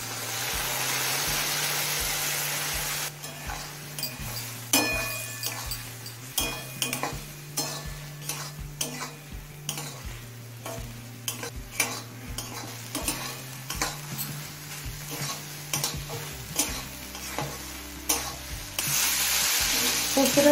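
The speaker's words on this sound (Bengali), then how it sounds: "পোস্তটা দিয়ে মিনিট 5-6 কষিয়ে নিয়েছি" Taro stolons fry with poppy seed paste in a pan, a steady close sizzle under repeated rhythmic scraping and clinking of a spatula stirring against the pan, continuous throughout.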